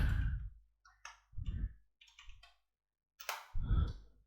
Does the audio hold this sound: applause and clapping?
no